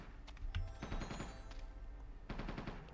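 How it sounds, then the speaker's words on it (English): Distant gunfire from other players in the online game Entropia Universe, a few scattered bursts of rapid shots at moderate level with pauses between, no talking. "I can hear other people shooting."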